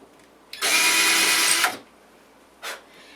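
A power drill whirs loudly into a wall for just over a second, stops, then gives one brief follow-up burst, close by and alone.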